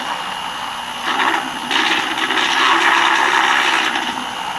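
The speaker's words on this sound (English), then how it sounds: "All right, then I whisk it." A small handheld whisk whirring as it mixes a drink, a steady buzzing hum that swells slightly louder partway through, close and alone without talk.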